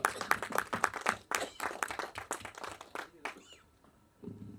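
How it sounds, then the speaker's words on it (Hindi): Brief enthusiastic applause at a film press conference: quick, close clapping for about three seconds that cuts off abruptly, followed by a short quiet stretch and faint murmuring. "एक बार जोरदार तालियां प्लीज"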